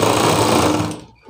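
A tailor's sewing machine runs in a fast, loud, steady whir, stitching a seam joining blouse fabric pieces, then stops abruptly near the end.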